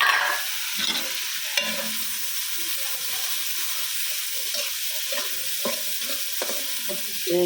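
Carrots and long beans frying for fried rice, a loud, continuous sizzle close by with intermittent clinks and scrapes of stirring, no voices.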